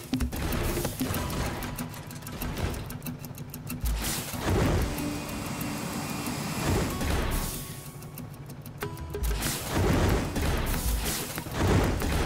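Vehicle from the Sand Land video game on PS5, a jumping machine, rumbling and clanking continuously with heavy thuds and crashes around its landings, loud and close with no talk.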